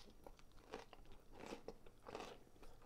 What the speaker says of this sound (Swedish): Nu ska vi ta första tuggan här på vår jättesallad.